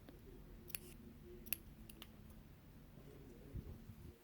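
Scissors snip through crochet thread twice in quiet room, giving faint, brief clicks over a low background hum.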